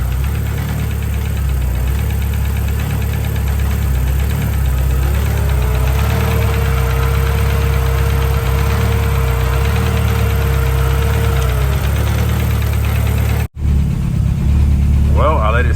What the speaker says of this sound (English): I let it sit for another second and crunk it up again, and I guess apparently it wants to randomly start now